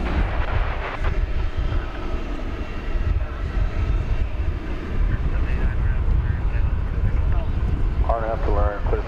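An American Airlines jet taking off from runway 18 left at DFW Airport on a hot Texas day makes a loud, rumbling engine roar that holds throughout, with a radio voice talking over it near the end.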